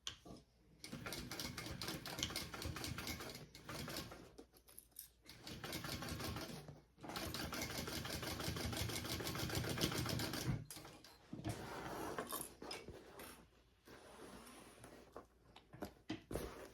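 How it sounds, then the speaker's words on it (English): A sewing machine stitches a crossbody bag seam in rapid, steady runs of mechanical chatter, stopping and restarting several times with short pauses between bursts, close and clear. "we're gonna sew along that with our seam allowance"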